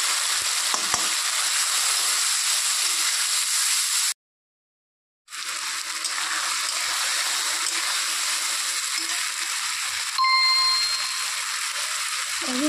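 A spice paste goes into hot oil that has just fried potatoes, producing a loud, continuous frying hiss with stirring scrapes and a brief full dropout partway through; no one speaks.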